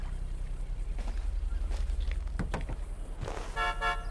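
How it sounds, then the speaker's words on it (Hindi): A 2019 Ford Endeavour (Everest) 3.2 Titanium+ 4WD with its 3.2-litre inline five-cylinder TDCi diesel idles with a steady low rumble and a few clicks. Near the end, one short, loud horn blast sounds up close. "आइए हॉर्न सुनते हैं।"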